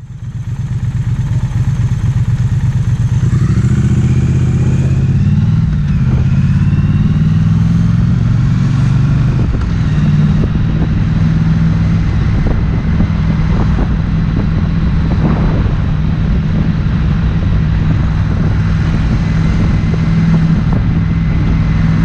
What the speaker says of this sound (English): this is very close to what I hear when I ride the bike